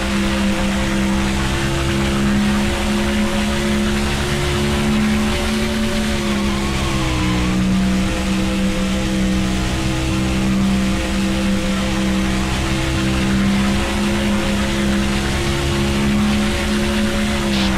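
A NASCAR stock car engine from NASCAR Thunder 2004 drones at steady high revs through a qualifying lap, a loud sustained whine with slight pitch shifts as it holds speed, running alone throughout.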